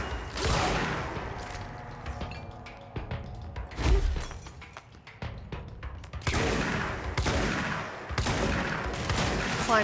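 Sustained SMG gunfire in the video game Control, loud bursts of rapid automatic shots with crashing impacts and breaking debris, pausing briefly before resuming.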